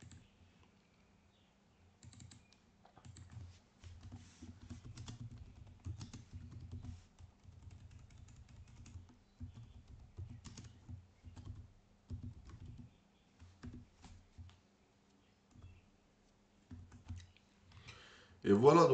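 Typing on a computer keyboard comes as bursts of quiet, close key clicks with short pauses between them, ending in a louder clatter.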